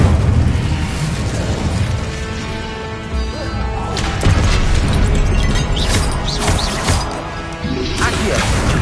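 Spellcasting in Hogwarts Legacy, including the Incendio fire spell, produces bursts of whooshing, crackling flame and crashing impacts over busy combat noise and music, with several sharp hits along the way.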